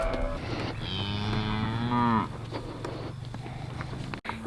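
A dairy cow gives one long, loud, close moo while being led with her heifer calf, followed by shuffling hooves and footsteps on the ground.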